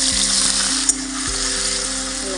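Onion and garlic dropped into hot oil in a wok with tomato and ginger paste, giving a loud, close, continuous hissing sizzle with a brief clink partway through.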